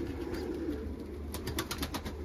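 Domestic kara dumanlı pigeons in a loft coo softly, low throaty murmurs over a faint background hum with a few brief higher chirps near the end.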